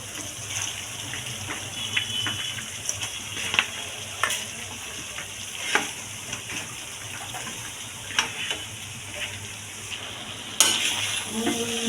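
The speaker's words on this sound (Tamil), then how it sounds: "நல்லா இப்போ இந்த மாதிரி நம்ம அடியிலேருந்து கிளறி மிக்ஸ் பண்ணிக்கணும்" Chilli gobi noodles being stirred and tossed in a pan from the bottom up, giving a steady low sizzle with soft scraping strokes and occasional louder clinks, close and continuous with no talking.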